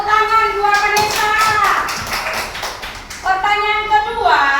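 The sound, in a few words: applause, clapping hands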